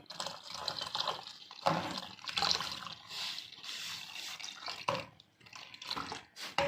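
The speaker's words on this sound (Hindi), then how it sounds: "अब इसमें ना चिल ठंडा पानी जाएगा, जो 3 गिलास है।" Chilled cold water is poured into a pot for Kashmiri chai, a close splashing trickle that rises and falls in uneven gushes with short pauses.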